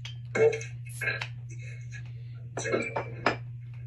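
Glassware clinks and taps as a glass is fetched and handled at a beer study group gathering, several light knocks and chinks scattered over a steady low hum, with faint voices nearby.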